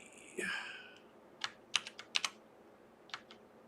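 Keys on a computer keyboard tapped close by in a few sparse, irregular strokes, with a brief soft rustle just before them.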